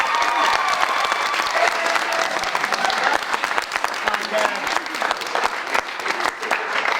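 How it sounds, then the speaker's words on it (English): Wedding guests applauding the bridal party, a loud, close round of clapping from a roomful of people lasting the whole clip, with a few voices under it. "Another round of applause for them."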